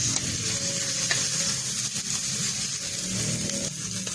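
Shrimp paste (bagoong) sizzles steadily while being sautéed and stirred in a pan, close and continuous with faint scraping of the utensil and no talking.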